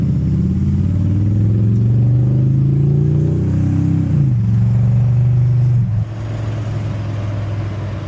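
An old Chevrolet El Camino's engine drones loud and close as the car drives, its pitch climbing steadily under acceleration, then dropping sharply as the transmission shifts gear, settling into a lower steady hum.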